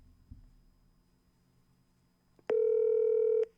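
A phone call placed and not answered: quiet room noise, then a loud, steady electronic tone holding for about a second before cutting off, with no voices.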